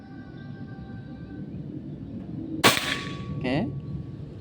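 A single sharp crack from a Bocap Pajero Gun Gen 5 air rifle being fired, sounding sudden and fairly close, followed by a short metallic ring over quiet outdoor background hiss.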